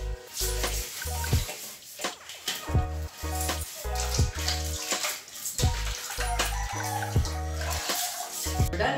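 A garden hose is scrubbed clean under running water, with splashing and gushing broken up by repeated rhythmic brushing strokes, close and moderately loud.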